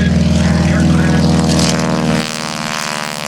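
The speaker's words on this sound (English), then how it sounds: "a 600 horsepower Pratt & Whitney radial engine aircraft" A 600-horsepower Pratt & Whitney radial engine on a T-6 Texan at the 2012 Cleveland National Air Show roars loudly past at full power, 2,700 RPM, with a deep propeller growl, then drops abruptly in level as it moves away.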